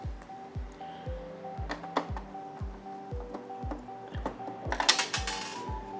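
Bolts are unscrewed while an Epson L-series printer is taken apart, producing a quick, regular run of ratcheting clicks close by, ending in a brief rustle.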